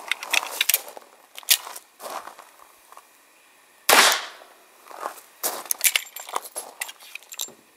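A cast bullet fired with a tiny Trail Boss powder load, one sharp, fairly soft report amid metallic clicking and handling clatter nearby.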